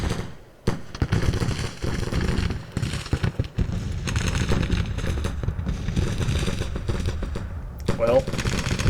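Civil War battle gunfire in the Grand Tactician strategy game, set in the Shenandoah, as dense, continuous crackling musket volleys and rattling shots roll on loudly with hardly a pause.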